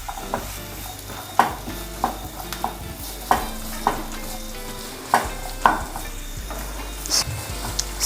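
Chopped onions sautéing in homemade butter: a steady sizzle under repeated sharp scrapes and taps of a spoon against the pan, coming in an irregular stirring rhythm close by.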